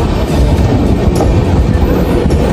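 Heard from inside a train travelling from Kolkata to Agra, a loud, close, steady rumble of the carriage with a rhythmic clickety-clack of wheels over rail joints and no voices.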